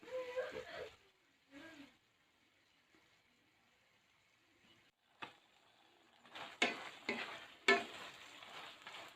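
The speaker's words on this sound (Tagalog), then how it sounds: "Beef broccoli, yung aking niluluto." Beef and broccoli seasoned with oyster sauce fry and get stirred in a pan, a quiet sizzle under soft scraping, with louder bursts of stirring and clatter toward the end.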